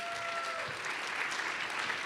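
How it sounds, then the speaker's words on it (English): Brief burst of steady audience clapping for the host at a live political panel event, no speech on top. "And a round of applause for Carrie,"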